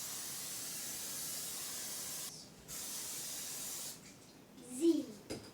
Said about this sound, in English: I'm going to spray half, and then she's going to spray half